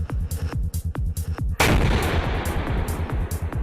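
The 125mm gun of a T-90MS tank firing, heard as one huge boom with a long rumbling tail, preceded by rapid repeated thuds of gunfire and followed by more sharp shots.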